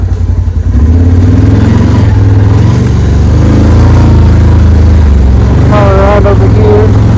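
A 2024 Can-Am Outlander 1000R XT ATV revving hard up close, a loud, rough mid-range engine roar that surges and holds, with a quick rising rev burst near the end.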